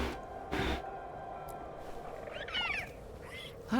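A kitty-birdie creature named Hassan in Dragon Age: The Veilguard gives a soft, cat-like purr and trill, with brief chirpy bursts over a steady low background and a louder thump near the start.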